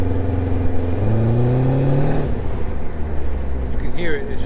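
An engine-swapped AMG widebody car with an M119 6.0 engine revs loudly and close, its pitch climbing steadily before dropping back to a rumbling idle and then blipping again.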